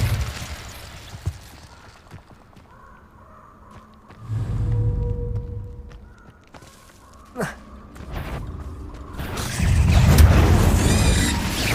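An Incendio fire spell cast in the Hogwarts Legacy video game, heard as swelling whooshing bursts of flame and rumbling booms separated by quieter gaps, with one short sharp crack in the middle.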